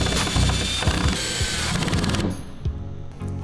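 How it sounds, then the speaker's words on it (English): A drill fitted with a Robertson bit drives a wood screw while a compostable bag dispenser is mounted, giving a close, steady mechanical whir broken by ratcheting clicks and a few sharp knocks. "now we're going to switch bits to the Robertson to drive in the wood screw"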